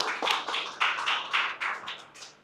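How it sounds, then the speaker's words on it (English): A small audience claps for event sponsors, with scattered, fairly soft applause coming in uneven bursts that taper off within a couple of seconds. "give them a round of applause there"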